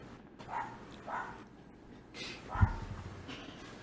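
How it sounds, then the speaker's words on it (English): A dog named Rocket barks a few times in the background at a home, muffled yips spaced about half a second apart with one sharper thump, under faint room noise. "Yes, Rocket is a dog."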